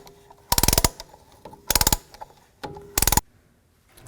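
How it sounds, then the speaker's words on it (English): A brake caliper tool compresses the pistons on a Ram 1500 front brake job, three loud bursts of rapid ratcheting clicks separated by short pauses, close up, no speech. "Use a brake caliper tool. And just compress the pistons slowly."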